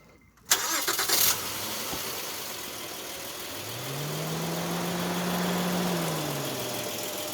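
A 2015 Honda Odyssey minivan engine cranks briefly, catches and settles into a steady idle, with the idle note rising slightly partway through.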